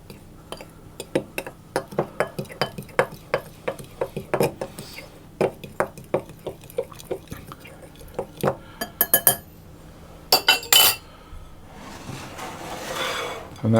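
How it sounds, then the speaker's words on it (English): A utensil mixes flour with spices, baking powder and salt in a bowl for apple butter walnut bread, giving a steady run of sharp clinks and scrapes that ends in a softer rustling swirl. "I'm going to pour my spices and my baking powder and salt into the flour, and I'm going to give that a mix around"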